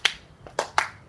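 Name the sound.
finger snapping in dance routine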